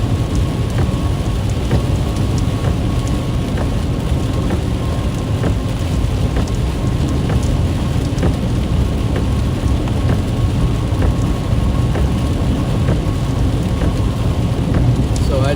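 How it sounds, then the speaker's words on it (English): Heavy rainstorm near Fort Worth, Texas, with dense, loud, continuous rain hissing and pattering on a vehicle while driving through it, thunder rumbling low underneath. "Rainstorm we just drove through."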